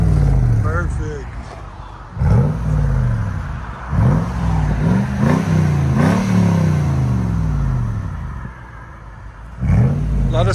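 Lexus GX 470 with a 4.7L V8 and aftermarket exhaust revving repeatedly: several deep, loud rises and falls in pitch, with quieter idle rumble between blips and a final rev near the end.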